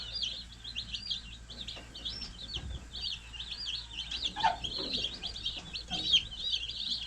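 Young meat chicks peep continuously in a small brooder, a dense overlapping chorus of high chirps close to the microphone, with a few soft thumps and no talking.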